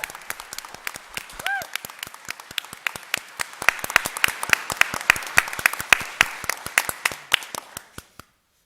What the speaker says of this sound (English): So if everyone could just give her another round of applause.